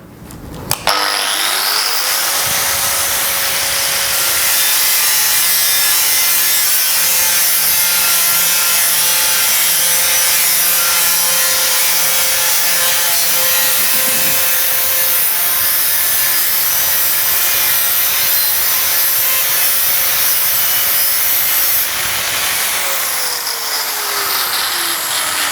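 An angle grinder with a PFERD cutting disc slices through metal in one long, loud, continuous cut lasting about twenty seconds, with a steady whine that ramps up at the start and winds down at the end.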